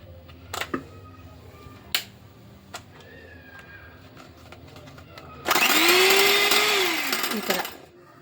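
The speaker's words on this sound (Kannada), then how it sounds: "ಇವಾಗ ನಾನಿವಾಗ ಈ ಥರ ಬ್ಲೆಂಡರ್ ತೊಗೊಳ್ತೀನಿ ನೋಡಿ" An electric blender whips cream powder, starting after a few scattered knocks and clicks and then whirring loudly and steadily for about two and a half seconds before winding down.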